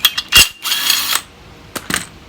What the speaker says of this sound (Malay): Jadi sekarang aku pasang penutup dia ni.